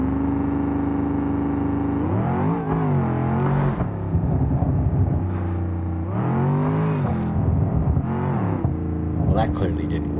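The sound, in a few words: car engine revving in BeamNG video game, Gavril Burnside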